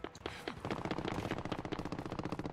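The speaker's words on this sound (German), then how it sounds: "da hinten schießen die auch schon" Rapid bursts of automatic gunfire from a Call of Duty Warzone match crackle in a dense, steady stream, sounding somewhat distant and moderately quiet throughout.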